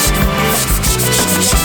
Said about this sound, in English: we can just sand it down whenever it gets a stain